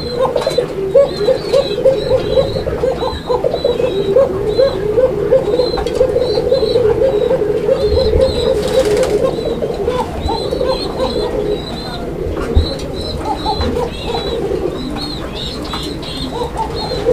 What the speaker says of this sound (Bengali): কবুতর আপনারা দেখতে পাচ্ছেন